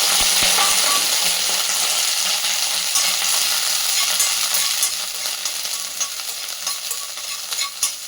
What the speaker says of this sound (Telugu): ఇదిగోండి, దీంట్లో పచ్చిమిరపకాయలు వేసేసుకున్నాను